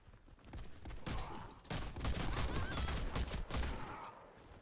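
A Saiga HGC Custom shotgun fires in Warface gameplay on Nintendo Switch, dense overlapping blasts and gunfire filling the stretch loudly and continuously, with a few rapid shots near the end and no clear talk.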